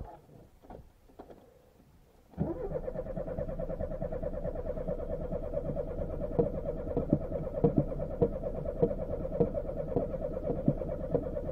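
A Lada Niva engine cranks and catches, running on with a steady rough idle after a quiet start broken by a few faint clicks, while sharp ticks punctuate the hum.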